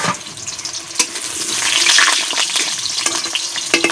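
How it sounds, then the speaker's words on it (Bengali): Potatoes frying in oil in a wok, a loud, rushing sizzle that swells in the middle, with occasional clicks and knocks and no voices. "তো এখন আলুগুলো ভাজা করে নেব, সুন্দর করে লাল লাল করে আলুগুলো ভাজা করব।"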